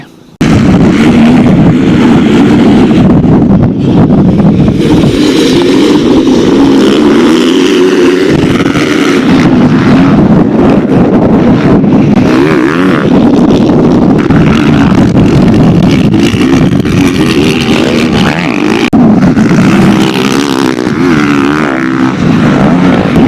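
Strong wind buffeting a microphone at an outdoor motocross track, a loud continuous low rumble that swells and dips throughout with no other clear sound.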